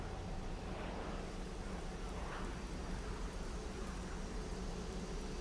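Steady broadband rain hiss in the X-Plane 11 flight simulator, heard from a Magknight Boeing 787 v1.7, a constant soft wash with no voices over it.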